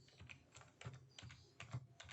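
Keys on a computer keyboard are typed in quick irregular bursts, entering class names into an online exam form; the clicks are close and fairly quiet, with no talking.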